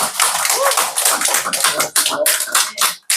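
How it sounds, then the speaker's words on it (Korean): A burst of applause from a crowd, dense overlapping claps continuing for about three seconds before tapering off. "힘차게 다시 한번 박수를 좀 보내드리면 어떨까 싶습니다"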